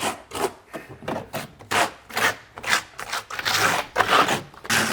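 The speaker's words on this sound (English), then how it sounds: "take the back side of your trowel and work it into the substrate" A trowel's back edge scrapes and rubs thin-set mortar into a shower substrate in repeated rhythmic strokes, each swipe a gritty rasp separated by short pauses, close and fairly quiet.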